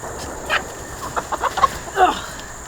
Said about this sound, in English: This is what a mean rooster's like.